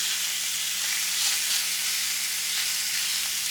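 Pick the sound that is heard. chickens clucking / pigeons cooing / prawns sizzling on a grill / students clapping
prawns sizzling on a grill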